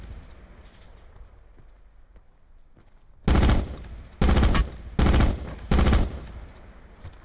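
Four loud, evenly spaced bursts of automatic gunfire from a video game gun ring out after a quiet stretch, each about half a second long and sharply cut off.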